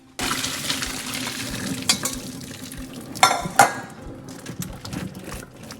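Boiled pasta is tipped into a strainer: water splashes and pours in a burst, then drains and drips, with a couple of sharp clanks near the end.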